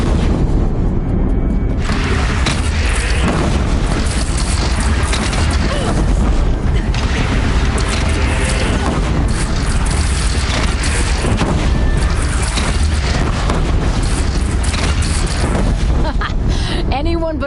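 Heavy cannon booms in a video game battle against a bandit clan, deep thuds repeating through a loud, dense din with voices talking over the fighting.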